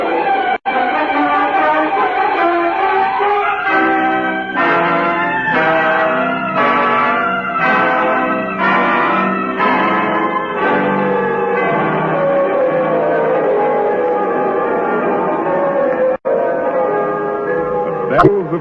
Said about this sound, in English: Bells of Paris.